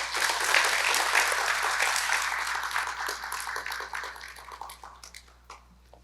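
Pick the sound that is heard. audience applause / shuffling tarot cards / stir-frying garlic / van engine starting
audience applause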